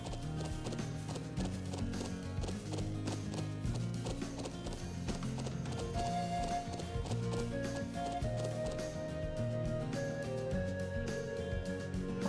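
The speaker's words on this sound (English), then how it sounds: "Horsies!" Horses clip-clopping in the video game Trails of Cold Steel, a steady trotting patter of hooves continuing over game music for the whole stretch.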